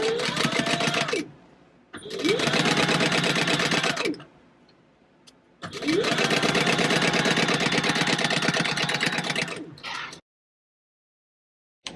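Close, loud whirring of a sewing machine stitching a quarter-inch seam on a bag, in three sustained runs of rapid clatter with brief pauses between, the last run the longest before it stops.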